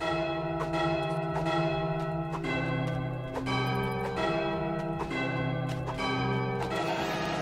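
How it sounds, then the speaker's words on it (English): Ringing bells in Goat Simulator 3 play the Star Wars Imperial March, a sequence of resonant struck tones in a marching rhythm with long sustained overtones and no talking. "we gotta play the Star Wars Imperial March on these bells"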